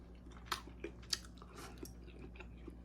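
Close, quiet chewing of a piece of pork dipped in sauce from an oxtail pho meal, with a few soft crunchy bites over steady background hum and no talking.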